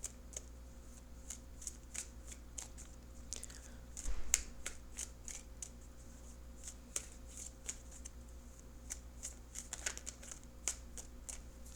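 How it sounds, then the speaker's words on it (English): Tarot cards being riffled and shuffled in quick crisp bursts, close up, with a faint steady hum underneath and no talking. "I'm going to shuffle for an outcome card."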